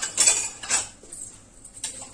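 Yogurt being beaten in a bowl with a spoon for raita, heard as a few quick, bright metallic clinks and scrapes close by, separated by brief pauses.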